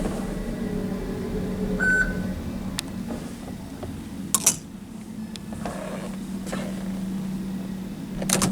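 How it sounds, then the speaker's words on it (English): A Dover hydraulic elevator's dry power motor hums steadily at a low, even pitch, with a few short beeps and clicks over it. "Pretty good dry power motor."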